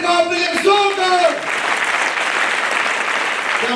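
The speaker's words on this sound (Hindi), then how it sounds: "अरे जोर से एक बार जोरदार ताली मार के दिखाओ अपने लिए जोरदार" Loud audience applause fills a speech event in Jamshedpur, a dense steady clatter of many hands after a brief stretch of voices at the start.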